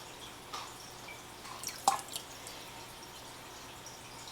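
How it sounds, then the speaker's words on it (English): Vinegar poured into a tablespoon measure gives a faint, brief drip and splash near the middle, with otherwise quiet room tone around it. "I'm just going to measure out about a tablespoon of vinegar"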